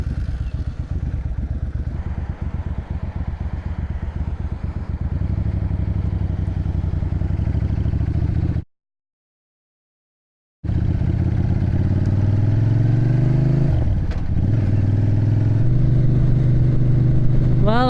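A motorcycle rides on the road, its engine droning loudly and steadily with wind rush, cutting out briefly midway before resuming and rising in pitch as it accelerates.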